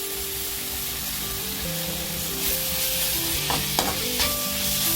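Chilli mushroom sauce of soy sauce, green chilli sauce and tomato ketchup is stirred in a pan, a steady close sizzle with scraping strokes that grow slightly louder toward the end, with no voices.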